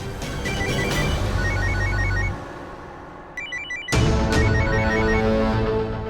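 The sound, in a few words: telephone ringing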